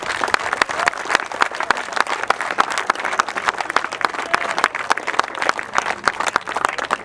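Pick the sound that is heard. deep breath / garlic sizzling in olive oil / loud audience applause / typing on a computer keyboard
loud audience applause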